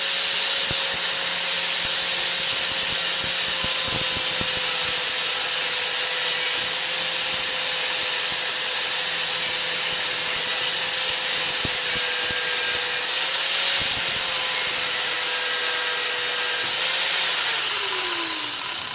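A power tool cleaning a spot of bare metal for a welding ground, a loud, steady high-pitched whine with grinding rasp, briefly shifting pitch near the end as it spins down.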